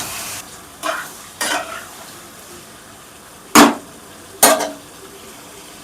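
Marinated chicken for a green hariyali korma cooking in a pan, a low background sizzle broken by a few sharp loud bursts of spatter or clatter as the pieces go in and are moved, no talking.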